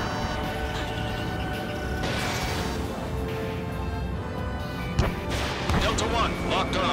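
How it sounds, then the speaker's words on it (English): Missile launches and explosions in the Ace Combat 7 multiplayer battle royale, a dense, continuous rumble of jet and weapon noise with a sharp crack near the end, and radio voices speaking over it. "Missile fire."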